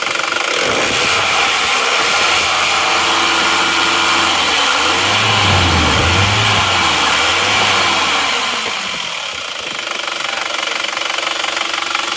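A 2.5-litre Isuzu Panther diesel engine, hot, runs steadily and loud throughout with a constant mechanical clatter and no talk, the pitch wavering briefly midway.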